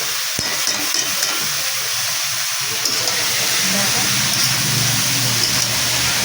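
Leafy greens go into a pan of frying eggplant, producing a steady hissing sizzle with steam and occasional stirring clatter, fairly loud and close.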